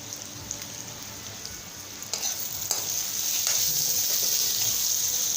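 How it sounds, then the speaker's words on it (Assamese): Raw mango pieces fry in a pan with green chilli, salt and turmeric, giving a steady close sizzle with occasional stirring scrapes that grows slightly louder partway through. "আমখিনি ভজা হৈছে।"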